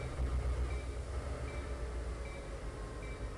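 Simulated train rolling along a Rocky Mountains line in Trainz Simulator 3, a steady low rumble with faint periodic high squeals, continuous and fairly close, with no talking.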